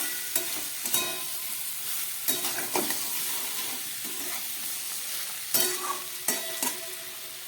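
Green jackfruit curry being stir-fried in a pan, a steady sizzle broken by repeated sharp scrapes and clacks of a spatula against the pan, close and fairly loud, with no voices.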